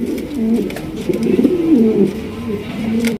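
Steady, throaty cooing of a King pigeon repeats close up in a continuous rolling rhythm for the whole stretch, with no voices.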